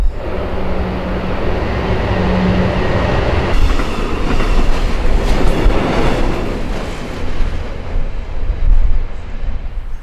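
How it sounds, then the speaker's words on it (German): Train passing slowly close by, a loud, heavy rumble of freight wagons with clickety-clack and a brief tonal squeal early on, building in intensity toward the middle and continuing steadily without voices. "da kommt ein Zug, ziemlich langsam gefahren"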